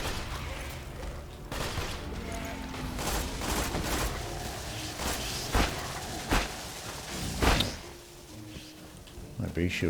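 Assault rifle fire in Borderlands 2 on Digistruct Peak, sharp repeated shots in irregular bursts mixed with game effects, with people talking throughout.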